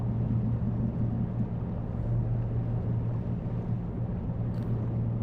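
Ship engine in the Seafarer ship simulator game throttling up on autopilot: a steady, loud low drone with constant hum bands, running alone and unbroken throughout.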